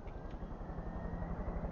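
A video game helicopter gives off a steady, low rotor and engine drone, continuous and even throughout with no voices.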